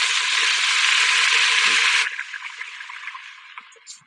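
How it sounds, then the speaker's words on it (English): Stock poured into a pot of hot oil for curry lentil soup gives a loud, steady hissing rush for about two seconds, then drops to a softer bubbling sizzle with small pops as it settles. "So that was the sound of oil meeting liquid."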